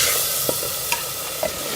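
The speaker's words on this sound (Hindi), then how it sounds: "अब हम इसमें ये फ्राई किए हुए प्याज शामिल कर देंगे और इसे भी अच्छी तरह से मिक्स कर लेंगे बीफ के साथ" Fried onions being stirred into beef browning in a pan for Pakistani bhuna gosht, giving a soft steady sizzle with a few light spoon scrapes and taps over the frying hiss.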